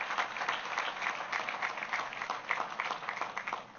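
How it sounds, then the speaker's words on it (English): An outdoor crowd at the opening of a city park claps in warm, continuous applause, moderately distant and fluttering evenly throughout without any speech. "Please give them all a big round of applause."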